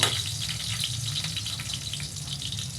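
Hot oil pops and sizzles steadily in a pan while upo with sardines cooks, a dense crackling hiss with scattered sharp pops and no talk.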